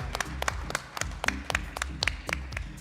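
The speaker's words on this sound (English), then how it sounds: "can we please have a huge A big round of applause before we start the session" Audience applause at a business summit, a brisk burst of many hands clapping close by with sharp, irregular claps and no voices.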